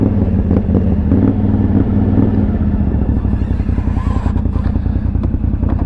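A powerful 850cc mudding quad runs close by with a loud, rough engine note that rises and falls as the throttle is worked, ending in a series of choppy revs.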